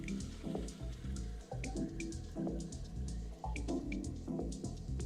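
Water dripped and splashed onto wet clay on a spinning potter's wheel during throwing, soft close squishing and irregular wet drips over a low steady rumble.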